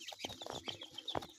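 Young poultry at a seller's stall, including hybrid ducklings and chicks, give quick soft peeps and clucks in an irregular patter, close but quiet, with no talking.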